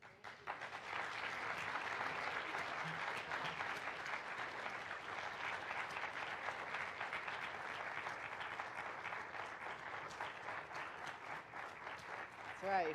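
Sustained applause from a gathered audience at a Teen Challenge testimony event, loud and dense from start to finish, holding a steady wash of clapping for about thirteen seconds with a brief swell at the very end.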